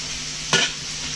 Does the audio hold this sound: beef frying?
yes